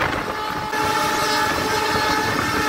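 A Khulna–Mongla commuter train runs at high speed, a loud continuous roar of wheels on rail with a steady rushing rumble and a sustained tonal horn-like whine, heard up close without any talk.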